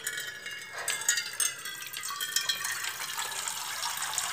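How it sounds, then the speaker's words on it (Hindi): Water running from a kitchen tap while soup is being made, a steady broadband hiss and splash with irregular gushes as a container fills, close and fairly loud with no talk. "नलका खोलो"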